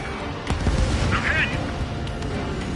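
A missile launches with a dull boom and is followed by a distant explosion during an aerial dogfight in Ace Combat 7, under steady jet engine roar, with radio chatter mixed in.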